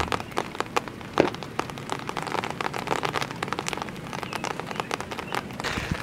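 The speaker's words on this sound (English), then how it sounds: "It's raining" Steady rain pattering on a surface, dense and continuous with scattered sharper drops, fairly close and even in loudness throughout.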